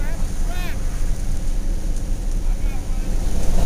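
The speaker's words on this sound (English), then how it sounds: "Wind's still blowing hard" Strong West Texas wind gusting steadily and loudly at close range, a constant broadband rush with microphone buffeting that swells toward the end; faint whistling tones drift in briefly.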